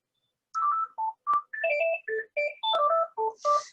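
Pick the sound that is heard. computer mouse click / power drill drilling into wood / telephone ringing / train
telephone ringing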